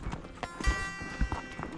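Hooves of a young horse clip-clopping while being ridden through open backcountry on a shed-hunting trip, a series of irregular thuds and clops at close range with faint rustling and ambient noise between steps.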